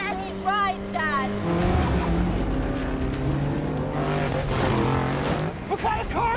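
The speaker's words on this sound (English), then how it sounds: "What kind of cars are those?" Movie car-chase scene with racing cars, engines roaring and tires squealing loudly beneath a dramatic musical score, with people talking over the action.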